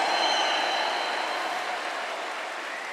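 A church congregation applauding, a broad steady wash of clapping that slowly fades over a few seconds, with no voices.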